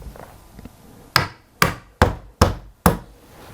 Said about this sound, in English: And I will take this piece of wood to put underneath here, and then hammer this in